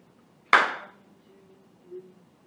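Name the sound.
students clapping a whole note rhythm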